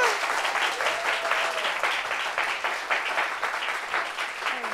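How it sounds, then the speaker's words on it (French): Steady applause from a French talk show studio audience welcoming a guest, a thick continuous wash of clapping that holds at an even level, with a faint tonal swoop in the background. "Applaudissez sérieusement."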